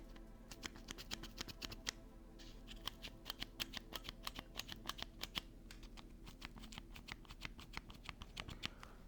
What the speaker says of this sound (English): this is the difference between the brown, the blue, and the red. I'm gonna get them close to the microphone so you can hear.